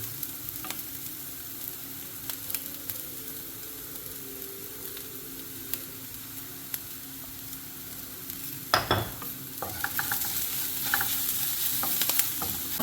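A spoon stirs a cutlet mixture of mashed tapioca seasoned with garam masala and salt, giving soft continuous scraping and mixing sounds with faint sizzling, a sharper clatter near the end, and no talking.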